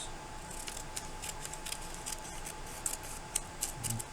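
Scissors cutting material for a pocket slider, a close series of quiet snips repeating at a steady pace, with a few sharper cuts toward the end and no talking.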